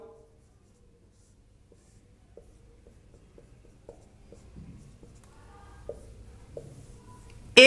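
Physics formulas are written out by hand in a quiet room, a series of light, scratchy strokes and taps that grow busier toward the end.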